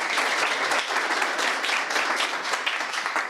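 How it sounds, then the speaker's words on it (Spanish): A panel audience applauds steadily and densely, many hands clapping together in an even wash of sound that holds at a constant level throughout. "denle un aplauso a Juan José Barreiro."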